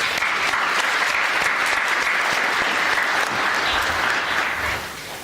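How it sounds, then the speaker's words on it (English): An audience at a citizenship ceremony claps for the JROTC cadets in dense, sustained applause that holds steady for several seconds and then fades toward the end. "Let's all give them a nice round of applause."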